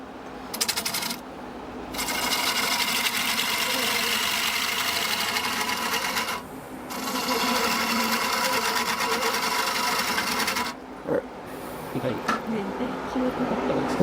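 A wood lathe spins a punky pine bowl blank while a spindle gouge cuts it, giving a steady whirring machine drone that drops out briefly three times, with a voice heard here and there.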